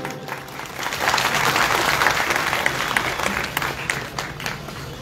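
A seated audience claps together to welcome guests at a local booth gathering, a steady burst of applause that swells early and holds through to the end, with faint crowd murmur underneath.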